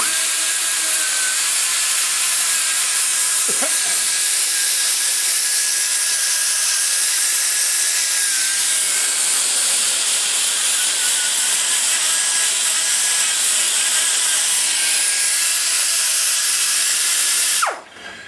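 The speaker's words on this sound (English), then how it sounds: "It's all about angle of the die grinder." A die grinder porting a Chevy LT-1 engine cylinder head, a loud, high, steady whine held continuously for about seventeen seconds with slight pitch wavers as it bites into metal, then cutting off.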